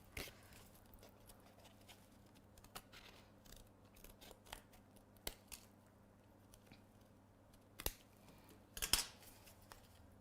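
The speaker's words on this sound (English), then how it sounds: "Just grab my scissors while that's holding." Faint, sparse snips and clicks of scissors cutting card on a quiet background, a few sharper cuts standing out near the end.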